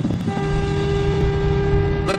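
A car horn blares in one long, steady, unbroken honk.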